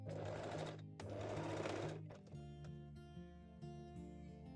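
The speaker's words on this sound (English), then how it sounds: "you can also stitch the seam allowance from the center back seam to one side with just a straight stitch" A sewing machine runs a straight stitch along a seam allowance on lace panties, its steady mechanical whir in two even bursts separated by a short pause, then slowing into a softer, tonal hum; faint and close, with no talk.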